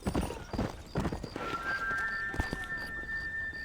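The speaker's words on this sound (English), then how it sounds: "Get on the horse." Horse hooves clip-clop in the video game Red Dead Redemption, a steady trotting rhythm with a whinny, up close and clear over faint background game sounds.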